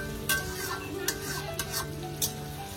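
Meat and onions frying in a pot for biryani, a steady sizzle with scattered stirring clicks and scrapes of a utensil against the pan, close by.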